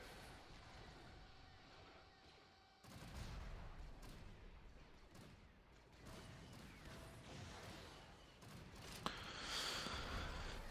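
Battle in Star Wars: Empire at War, with faint bursts of rapid blaster and weapon fire, mechanical clatter and crashing impacts mixed together, one sharp crack standing out near the end.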